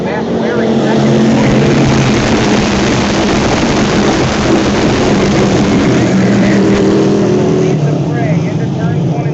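A pack of dirt track race cars roars through a restart on lap two of a 25-lap feature in Geneva, NY, a loud continuous engine drone under a crowd and announcer's voice.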